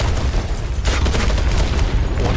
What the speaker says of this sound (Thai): มันระเบิดกันแบบเดือดมากเลยอ่ะ